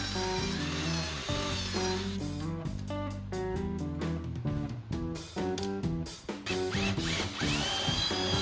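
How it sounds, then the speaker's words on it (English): Power drill boring holes for 1/2-inch lag bolts in wooden cornhole board legs, the motor whining loudly in repeated bursts with brief pauses and pitch drops as the bit bites the wood. "drill a hole for the 1/2-inch lag bolts"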